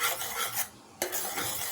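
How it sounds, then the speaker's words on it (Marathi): A spoon scraping and stirring dragon fruit puree in a hot wok as the mixture is cooked down, two short bursts of rasping strokes separated by a brief pause, close and without speech. "प्युरी छान मिक्स करून घेऊ."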